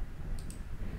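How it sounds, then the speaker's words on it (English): A computer mouse clicks twice in quick succession, faint and close, against a low steady background hum. "So let me click OK"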